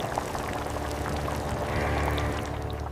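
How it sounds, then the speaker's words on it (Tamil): Dried avaram flowers simmering in a pot of water on the stove, a steady close bubbling and hissing wash with no talk, continuous for a few seconds. "காய்ந்த ஆவாரம் பூக்களை தண்ணீரில் போட்டு நன்கு கொதிக்க வைக்க வேண்டும்."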